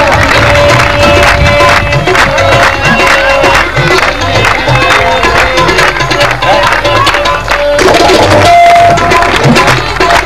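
An audience at a grand revival crusade in Shanti Nagar breaks into loud, continuous applause, a dense wash of clapping and crowd noise that fills the whole stretch without pause.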